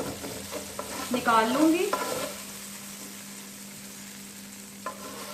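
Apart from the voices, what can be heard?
okra frying in pan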